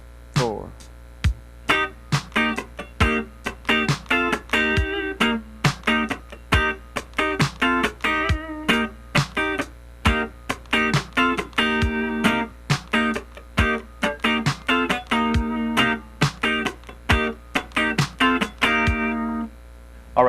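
A slow funk rhythm guitar part is played in full: crisp, choppy muted chords and single-note stabs in an even, deliberate pulse, close and clean, with no talking.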